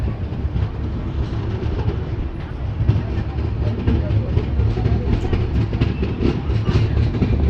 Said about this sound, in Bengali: ট্রেন বেরিয়ে যাচ্ছে